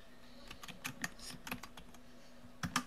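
Soft, quick keystrokes on a computer keyboard in an irregular patter, with a short burst near the end, faint and close with no voices.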